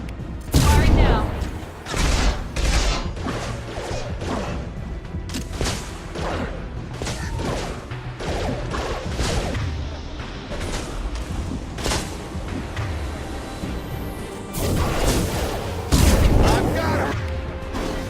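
Sustained gunfire in a Mass Effect 2 firefight, with repeated bursts and heavy impacts across the whole stretch, under game music and a low combat rumble.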